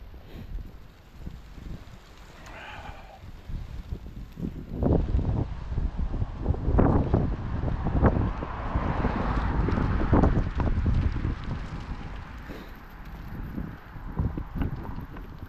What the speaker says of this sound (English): Boy, big wind right now.